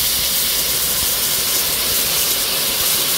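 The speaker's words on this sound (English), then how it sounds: "I'm gonna put some vinegar in the pot and let it cook down." Vinegar cooking down in a hot pot for a Jamaican fried sprat fish and bammy meal gives a steady, dense steam hiss that stays even and unbroken, with no voices.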